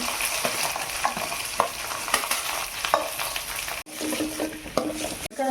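Onions and green chillies fry in a pan with a constant sizzle, while a utensil scrapes and taps as they are stirred, close and fairly loud with no speech.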